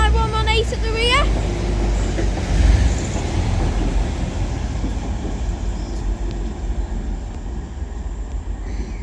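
A double TransPennine Express Class 185 diesel multiple unit runs through Deansgate as a heavy, steady rumble that fills the whole stretch, with a brief rising whine near the start.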